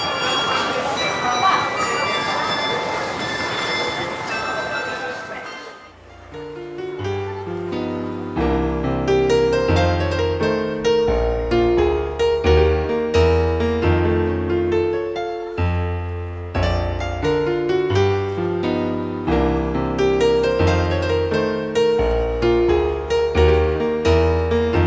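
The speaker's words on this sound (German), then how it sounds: "Beim Elektrofachgeschäft FNAC kann man zur vollen Stunde ein Glockenspiel hören." A carillon at a FNAC electronics store in Porto, Portugal plays an on-the-hour melodic tune of ringing bell tones, loud and sustained, after a noisy street wash; a voice talks over the start.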